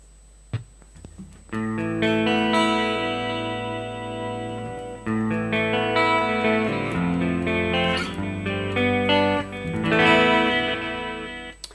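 Electric guitar with a shimmering chorus effect, played clean through a Rocktron Prophesy, plays sustained chords and melodic phrases, loud and close, with no talking.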